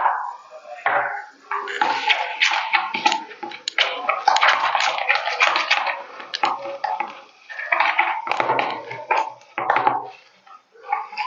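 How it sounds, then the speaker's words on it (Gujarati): Water is poured from a small bowl into flour for a homemade sweet dough. It makes close, irregular splashing and pattering bursts with some clatter, continuing steadily through the clip. "એટલે એમાં આપણે અડધી વાટકી પાણી નાખશું।"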